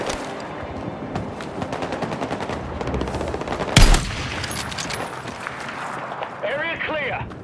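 Rapid machine gun bursts rattle through a Battlefield 6 campaign firefight, dense and continuous, with one sharp loud blast midway and voices talking over the gunfire.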